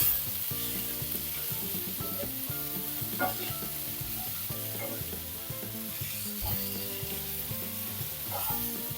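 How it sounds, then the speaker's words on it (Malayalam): Tomato, onion and grated coconut sizzle steadily in a pan while being stirred, with frequent scraping clinks of a utensil against the metal throughout; loud, close and continuous with no talk. "ഇനി നമ്മൾ ശകലം നേരം ഒന്ന് ഇളക്കിയാൽ മതി."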